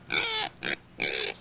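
A pet pig grunts and squeals in three nasal bursts, close and fairly loud, with short pauses between.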